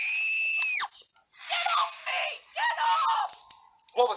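Screams performed as a radio drama sound effect at a farmhouse, a long piercing shriek cutting off sharply, then rattling, strained cries and another scream at the end, with no speech.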